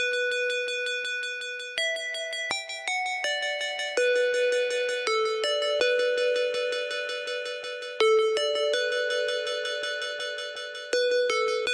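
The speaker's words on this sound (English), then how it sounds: "The ringing on both ears was crazy. Crazy type of effect." Bright, sustained electronic ringing tones from an Incredibox mod step through a run of pitches, loud and steady with sharp changes between notes, and nobody speaks.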